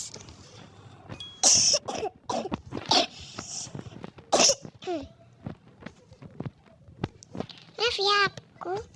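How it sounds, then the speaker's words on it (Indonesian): Several sharp, loud coughs break up a stretch of talking, with short bursts coming in quick succession near the microphone. "aku batuk mulu guys"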